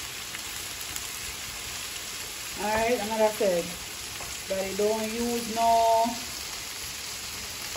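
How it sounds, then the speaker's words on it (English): Steady, crackling sizzle of shrimp and crayfish frying in a pan throughout, close and even, while someone talks over it. "they're frying up nicely"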